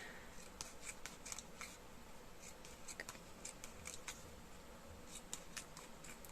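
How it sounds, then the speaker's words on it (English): Scissors slicing into the side of a cardboard box, a series of quiet, crisp snipping cuts in an irregular rhythm, close by with no talking. "I'm going to cut some slices into the side of the box."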